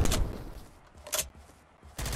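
Gunfire in the video game Surviv.io, with QBB rifles in play: three short, loud bursts of shots, at the start, near the middle and at the end, with quieter gaps between and no talking.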